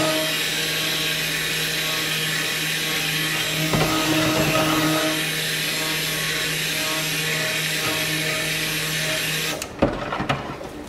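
A stick blender runs in soap batter mixed with lye solution, giving a steady whirring motor hum with a strong tonal whine. It cuts off near the end, followed by a few sharp taps.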